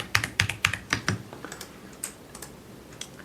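Keystrokes on a computer keyboard while working in a command prompt, including an Enter press: about five crisp, close clicks in quick succession, then a few softer, sparser taps that fade out.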